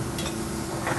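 Bacon crisping in a pan during a restaurant chef's cooking demo, a soft continuous sizzle with faint clinks of cookware, brief and fairly quiet.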